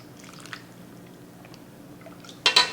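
Broth is ladled into a smoked pork butt chop soup: faint soft liquid trickles and drips, ending with a brief louder splash and clink near the end.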